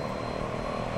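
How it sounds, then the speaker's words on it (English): Steady propeller engine drone of an EMB 110 twin turboprop in the X-Plane 11 flight simulator, a loud continuous buzzing hum with no breaks or talk. "I like the sound of this prop."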